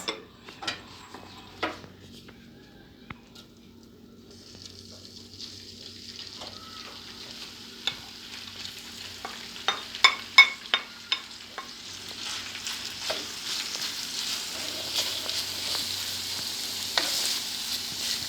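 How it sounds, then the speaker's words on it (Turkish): Beef frying over a gas burner for Gaziantep-style Ali Nazik, a soft steady sizzle that builds and brightens, broken by scattered sharp clicks and scrapes of a utensil against the pan. "Etimizi kavurmakla başlayacağız."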